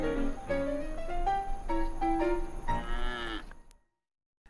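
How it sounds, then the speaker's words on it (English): Cows grazing in a yard moo several times in a row, long, drawn-out, fairly close calls with no talk, before the sound cuts off abruptly. "Cows still grazed in the campus yard."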